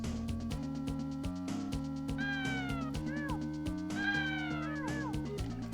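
Repeated cat meows from the Lemmings video game, several rising and falling cries standing out over a looping game music track with steady bass notes.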